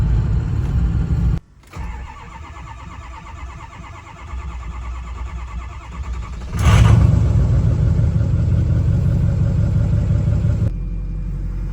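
A diesel 6.0 Powerstroke pickup truck engine with a high-pressure oil leak rumbling as it drives, a brief cutout early on, then a louder, heavier engine drone that eases toward the end.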